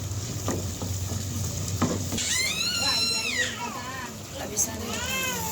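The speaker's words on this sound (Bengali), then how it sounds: "মরিচের গুঁড়া, মশলা তৈরি করা মশলা, মরিচের দুধ দিয়ে নাড়াচাড়া করে নিই।" Chili powder and ground spices with cloves, cinnamon and bay leaf are stir-fried for a wedding-style korma, with sizzling and scraping strokes. Partway through, a voice rises over the frying.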